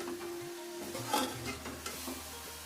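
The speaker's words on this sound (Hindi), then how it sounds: "और हम मिक्स करेंगे तमाम चीज़ों को।" Vegetables being stirred in a pan with soy sauce and chili sauce for chicken rolls, a soft scraping stir with faint sizzling and a few brief utensil clinks, close and fairly quiet.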